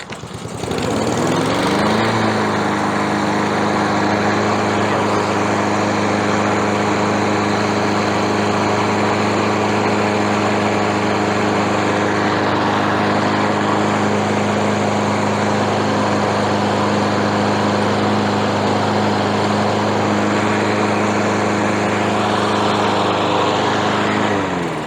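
A free lawn mower, just freed of a sticky valve, starts and runs steadily, a loud close engine drone holding even for over twenty seconds with no talk.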